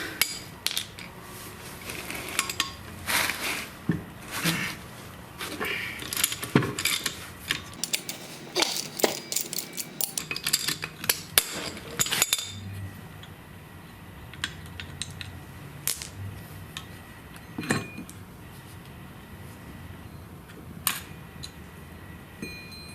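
A GM 9.25 front differential from a 3/4- or 1-ton Chevy or GMC truck is broken open, producing close, irregular metallic clanks, taps and ratchet-like clicks that thin out into sparse knocks later on.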